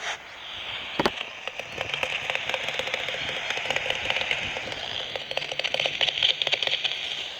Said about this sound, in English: You'll hear like a little click, click, click, click noise.